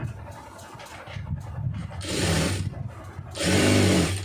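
A sewing machine stitches a lined blouse in two loud, sustained bursts, with quieter mechanical handling between them.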